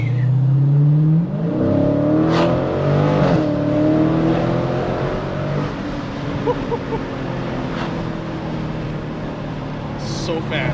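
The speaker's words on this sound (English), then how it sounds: "That note on the exhaust when it shifts." A 2021 Dodge Challenger R/T Scat Pack muscle car accelerating, its loud, close exhaust note climbing in pitch then dropping as it shifts gears, with speech over the engine.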